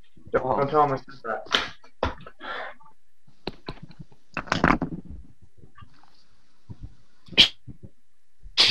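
A single sharp sneeze indoors during a casual airsoft mechanics discussion, standing out briefly amid relaxed conversation from several people.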